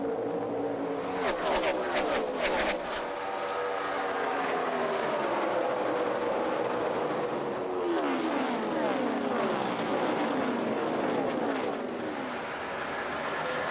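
Stock cars in a NASCAR Sprint Cup race at Pocono Raceway, 2011, roar past in a steady loud drone with rising and falling engine pitch as the pack sweeps through a corner, joined by announcers talking over it.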